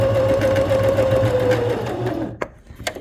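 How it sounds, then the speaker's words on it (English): A sewing machine stitches a seam finish with a steady whirring run, then stops, followed by a couple of small clicks and handling sounds. "And I'm just going to sew."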